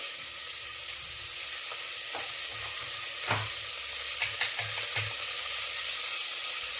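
Black bean pulao masala with turmeric sautéing in a pan, a steady soft sizzle with a few sharp stirring scrapes and clicks scattered throughout, close and moderately quiet with no talking.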